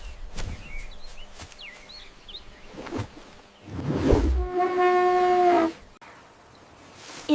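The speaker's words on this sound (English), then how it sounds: "It's an elephant." An elephant lets out one drawn-out, tonal trumpet midway through, preceded by scattered rustles and faint chirps in an outdoor setting.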